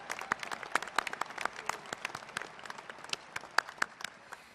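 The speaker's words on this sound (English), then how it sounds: "let's give applause for Rebecca" An audience at a US Air Force Academy commencement ceremony applauds a graduating cadet, with scattered, distinct claps from a moderately sized crowd sounding somewhat distant and steady throughout.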